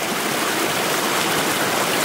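A farm stream flowing toward the sea, a steady close rushing and burbling of water, continuous and fairly loud, with no voices.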